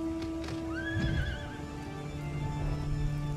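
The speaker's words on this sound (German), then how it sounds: "Lauf mein Pferdchen, also fliegt mein Pferdchen." A horse neighs with a clear rising whinny in Final Fantasy XIV, with hoofbeats clip-clopping beneath and steady game ambience throughout, no talking.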